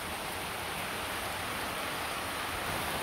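Heavy rain falls in a steady, even hiss that fills the whole stretch without pauses, soft and somewhat distant, with no voices.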